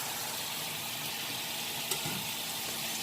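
Chicken frying in a pan from a HelloFresh meal kit: a faint, steady sizzle with soft hiss throughout and one brief clink partway through, no talking.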